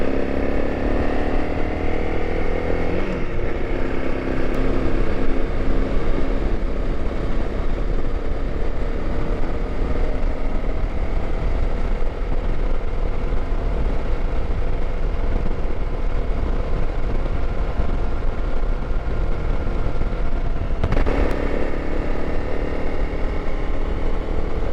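A motorcycle fitted with a Nomad Moto Rackless Strzelecki 65-litre pannier kit rides along on an early morning road, its engine a steady, continuous drone with wind rush and no talk.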